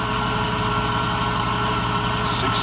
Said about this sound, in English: when I close it, the engine even runs a little better